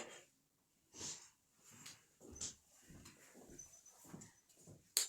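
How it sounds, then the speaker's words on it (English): A person blowing their nose with short, soft nasal snorts and breathy bursts spread unevenly over several seconds, faint and close, with no talk. "Sorry, just going to blow my nose."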